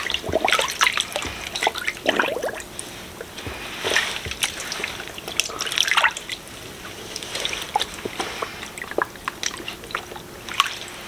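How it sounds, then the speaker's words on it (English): Leather canteen pieces dunked and moved about in water, giving irregular splashes, drips and wet squishing sounds close by, with no one talking. "Now I'm gonna stick them in the water and we're gonna get them wet and shape them out to look like a canteen."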